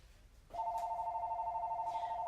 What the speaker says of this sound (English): All right, sorry about the phone.